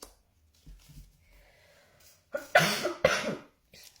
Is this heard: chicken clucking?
no